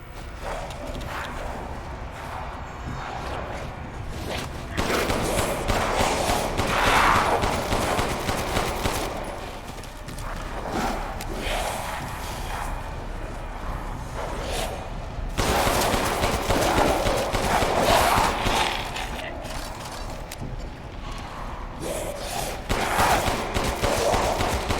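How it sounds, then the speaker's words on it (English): An automatic pistol fires in Resident Evil Village: rapid, sharp bursts of shots in two main volleys, with softer stretches of scattered pops and movement between them, fairly loud with no talking. "I do have an automatic pistol."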